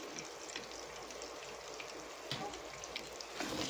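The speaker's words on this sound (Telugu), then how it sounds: "ఈ వంకాయలన్నీ కూడా కొంచెం మగ్గించాలన్నమాట ఇలా కొంచెం వేయించాలి" Brinjal pieces fry softly in a pan, giving a faint, steady crackling hiss with scattered tiny pops and no other sounds.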